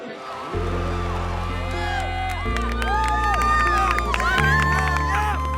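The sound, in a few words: crowd cheering at FIRST robotics event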